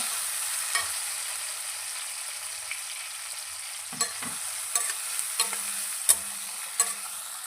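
Chopped tomatoes added to onions frying in a pan for a dhaba-style garlic fenugreek masala, stirred with a spatula: a faint, low sizzle broken by several irregular scraping knocks close by.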